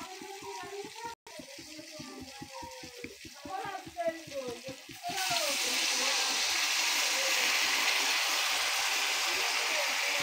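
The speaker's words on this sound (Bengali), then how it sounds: "তো এবার আমি এতে একটু জল দিয়ে দেবো পরিমাণ মতো" Water splashes into a hot pan of frying spices for Bengali fish curry, first a spattering crackle of oil, then a loud steady hiss and sizzle that fills the pan and holds without a break.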